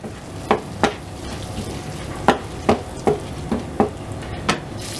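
Red chili powder fries in oil in a pan for a Punjabi moong dal tadka while a spoon stirs it, with about nine sharp, evenly spaced scrapes and knocks over a soft, low sizzle and no talk.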